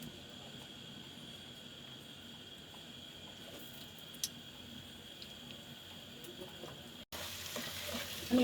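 Chopped onions frying in oil for pulao, a steady, moderately faint sizzle that runs evenly throughout, briefly cut out near the end before turning louder.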